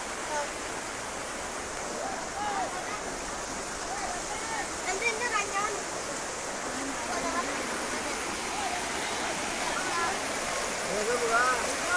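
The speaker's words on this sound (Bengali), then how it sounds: "পানি রোডের রাস্তার উপর দিয়ে পানি যাচ্ছে" Floodwater rushes over a broken road in Bangladesh, a steady broadband roar of flowing water that holds level throughout, with faint voices talking now and then underneath.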